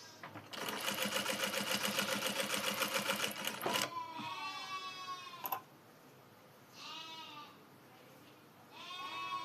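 A sewing machine stitches piping onto a blouse with a fast, even burst of needle chatter for about three seconds, close and clear, then stops; bleating and a voice follow in the quieter remainder.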